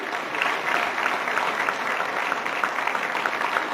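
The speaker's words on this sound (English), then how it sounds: "Can I have a round of applause for the," An audience applauds at the signing of a sister port agreement between Barbados Port Inc. and Manzanillo, with even, sustained clapping from a crowd heard at moderate distance and no speech over it.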